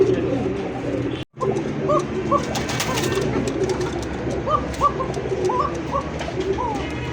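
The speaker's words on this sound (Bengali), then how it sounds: "এতক্ষণ তো ভিডিওতে শুনলেন মাঝে মাঝে যে ডাকতো, দম ধরে ডাকতো, এই সেই কবুতরটাই" A pigeon coos repeatedly in soft, rolling calls close by, with a steady background hum and a brief dropout near the start.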